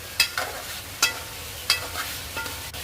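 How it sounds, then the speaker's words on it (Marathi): Bombay duck (bombil) fish sizzles softly in a pan while a spoon stirs it. Several sharp scrapes and clinks fall at uneven intervals over the constant low frying hiss. "मच्छी सोडायची, बोंबील आणि हळू चमच्याने हलवून घ्यायचं।"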